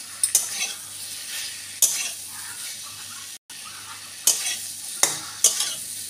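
Cauliflower and tomato being stir-fried in a pan sizzle steadily up close, with several sharp metallic scrapes and clinks of the spatula against the pan at irregular intervals and a short silent gap partway through.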